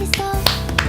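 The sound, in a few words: finger snaps in a played music track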